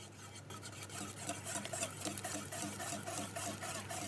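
A whisk gently stirring melted chocolate and butter into egg yolks for brownie batter, producing soft, quiet, rhythmic scraping and swishing strokes against a bowl, with a low steady hum underneath.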